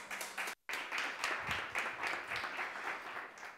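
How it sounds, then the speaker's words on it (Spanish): Audience at a coworking demo day applauds as a speaker is introduced, a dense, sustained clapping that cuts out for a split second near the start and then continues steadily at moderate volume. "Un aplauso para él."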